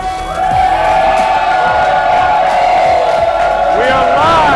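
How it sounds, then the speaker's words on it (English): A lively crowd in a pub hosting a live sports talk show cheers and whoops loudly, a dense roar of voices with shouts rising over it, close and continuous throughout. "The crowd is absolutely into it."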